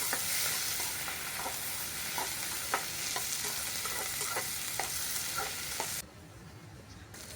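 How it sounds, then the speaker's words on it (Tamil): Two large onions cut into big pieces frying in a pan while being stirred, a close, continuous sizzle punctuated by repeated scraping strokes that drops to a quieter hiss near the end. "வறுத்ததுக்கப்புறம் நான் 2 பெரிய வெங்காயம் கட் பண்ணி வச்சுருக்கேன்"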